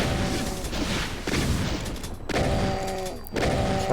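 Shotgun blasts in Doom 2 on the Alien Vendetta map Toxic Touch, three loud booming shots spaced about a second apart, each followed by a brief decay amid game sounds.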